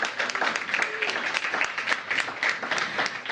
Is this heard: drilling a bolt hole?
no